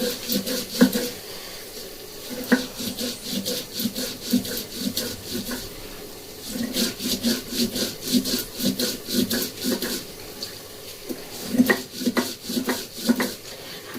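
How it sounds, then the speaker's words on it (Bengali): Poppy seeds and chillies are ground with water on a traditional stone slab with a stone roller, a steady rhythmic scraping and rubbing close by, repeating in back-and-forth strokes with brief pauses. "তো এইভাবে আমি একটু বেটে নেব। আর পোস্ত কিন্তু সবসময় শিলে বেটে করবেন"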